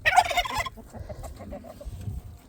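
Turkeys gobble in a burst of rapid, warbling calls, followed by softer clucks and shuffling noises nearby.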